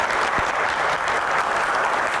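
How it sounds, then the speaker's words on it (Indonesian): A studio audience at an Indonesian televised Q&A talk show applauds continuously, a dense, loud wash of clapping that holds steady from start to finish. "Tepuk tangan."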